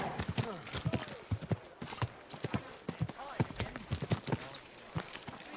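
Horse hooves clip-clop in a steady, uneven rhythm close by in the video game Kingdom Come: Deliverance II, with some vocal sounds mixed in over the hoofbeats.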